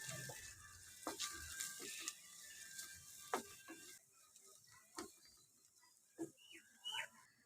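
Onions sautéing in a pan with turmeric, chili powder and salt, with soft sizzling and sharp scraping stirs repeated across the clip, close and fairly quiet.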